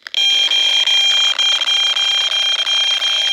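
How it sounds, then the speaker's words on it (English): A piercing, steady high-pitched alarm tone from an EMF meter, triggered when a cell phone's Bluetooth is switched on, sounds loud and close, starting abruptly and holding with slight flutter. "So you can see the real high-pitched noise and how the meter jumps all the way up to red just by enabling the Bluetooth"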